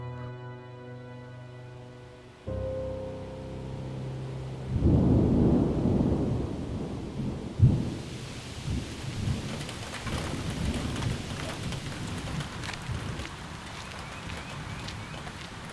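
A heavy rainstorm with thunder: steady rain hisses throughout, a strong thunderclap cracks partway through and then rumbles on under the continuing downpour, with no talk.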